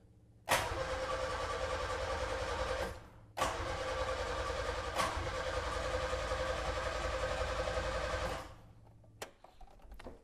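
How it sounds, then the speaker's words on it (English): An Austin-Healey engine cranked with the choke pulled out and locked, giving two long, loud churning cranking runs with a short pause between, then a few faint clunks. "So I'm gonna pull the choke out and lock it. And then we'll let the fuel pump catch up for a moment here and see if it starts."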